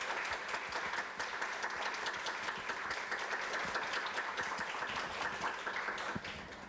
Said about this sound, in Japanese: 3人の先生方にもう一度大きな拍手を